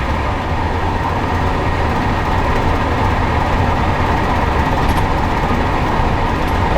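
An old van back on the road after about 11 years of sitting idle, its engine and road rumble droning loudly and steadily from inside the cabin with no let-up.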